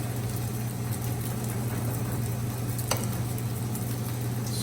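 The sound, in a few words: fried rice being stirred in a hot pan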